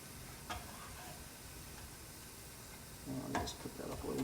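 Chinese sausage browning in a hot pan, a faint steady sizzle with a few soft clicks and stirring scrapes, the sizzle growing louder and busier toward the end.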